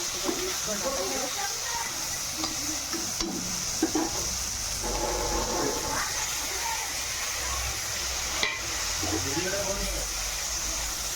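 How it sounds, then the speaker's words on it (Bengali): Potatoes frying in oil in a pan, a continuous close sizzling hiss with occasional stirring clatter, running steadily beneath a person talking. "আলুটা আগে ভেজে নিই"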